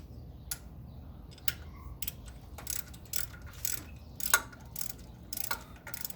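Bolts coming out of an engine in a garage produce quiet, close ratcheting clicks in short irregular bursts over a low steady hum.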